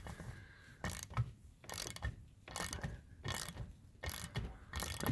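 A ratchet spins a stud into the intake manifold of a 1965 Mustang fastback, sounding as repeated bursts of rapid clicking, about six strokes in a steady rhythm, close and clear with no talking.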